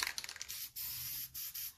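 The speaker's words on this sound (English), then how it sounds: "I'm going to shake and pre-spray that one." Short hissing bursts of an aerosol spray can, a few quick sprays in a row, close and fairly quiet.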